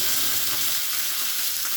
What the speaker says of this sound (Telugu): టమాటా రసానికి ఆయిల్ వేసుకొని పోపు వేసుకుందాం జీలకర్ర ఆవాలు మినప్పప్పు కరివేపాకు